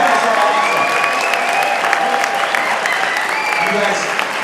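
A crowd at an evening gathering keeps clapping for the clients of Merrick, a loud continuous wash of applause with faint voices mixed in underneath.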